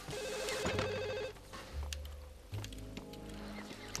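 In the Max Payne 2 video game a telephone rings with a few electronic ring tones early on, followed by heavy thumps and game ambience.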